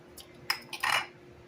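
Mixing bowls being pushed aside and set down on a kitchen counter while baking a chocolate cobbler: a few quick, close clinks and knocks, the last one a brief ceramic rattle, with no talking.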